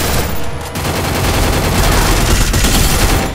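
Dense, loud automatic gunfire in a battle royale shooter, a continuous rapid burst of shots close up for about three seconds with no talk over it.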